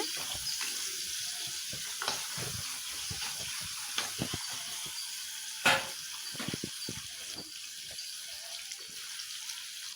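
Onions sauté in a pan over a medium flame with a steady hiss and sizzle, broken by occasional soft clicks and one brief louder knock, and no voices.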